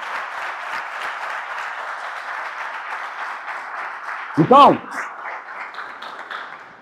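Applause from a church congregation during a Portuguese-language sermon fills the whole stretch as a steady mid-level patter, while a voice speaks briefly over it near the end.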